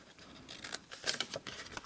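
Scissors snip through doubled paper for ice cream bags: a few crisp, close cuts in quick, uneven succession, fairly quiet with no talking.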